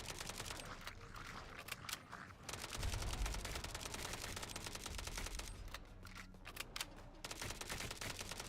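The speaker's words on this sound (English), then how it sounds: "I'm also being hit by bullets that are bouncing off of him" Rapid gunfire crackles through a video game firefight, dense bursts of shots with sharp ricochet-like clicks, sustained and fairly faint, alternating with short louder rumbles.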